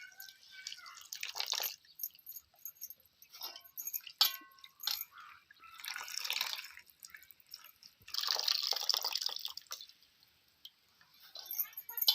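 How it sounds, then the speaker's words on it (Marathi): Water from washed spring onion greens trickles and drips in uneven bursts, close by, with brief pauses between splashy runs of liquid falling away. "असं हे पाणी नितळायचे आपल्याला भाजीतलं"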